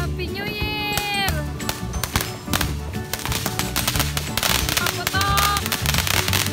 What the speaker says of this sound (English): Paputok!